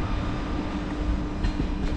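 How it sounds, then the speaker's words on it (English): TGV high-speed train pulling away from the platform at Lille Flandres station in France, a steady low rumble and rolling rail noise with faint clatter, heard from nearby on the platform without talk. "TGV is now leaving the platform."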